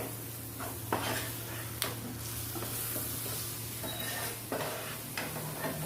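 Soft stirring and scraping of soy sauce and tomato sauce in a frying pan over a gentle sizzle, with a few light clinks of a utensil against the pan.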